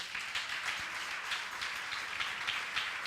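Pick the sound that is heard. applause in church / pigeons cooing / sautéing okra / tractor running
applause in church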